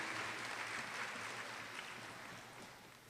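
Soft, steady applause from an audience at an honors recognition ceremony for nursing and physician assistant students, a faint wash of clapping that fades slightly toward the end.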